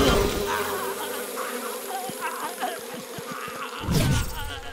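Bees buzz in a continuous dense drone that stays fairly loud and close, with brief clicks and a burst of noise near the end.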